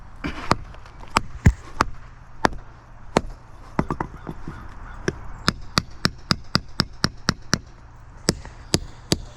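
Sharp, sudden hammer strikes on granite ring out again and again, irregular at first and then in a steadier rhythm, close and crisp; an old brick hammer wedging granite during a patio repair.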